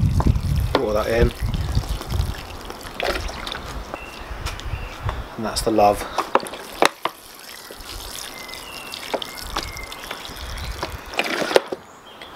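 Water poured from a can onto seed pots in a UK allotment, trickling and splashing in short bursts while someone talks over and between the pours.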